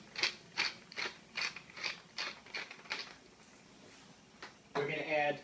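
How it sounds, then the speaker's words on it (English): A pepper mill cranks out fresh ground pepper in a home kitchen, giving about eight close, crisp ratcheting grinding bursts in a steady rhythm, followed by a short pause and then a brief clatter. "Some fresh ground pepper."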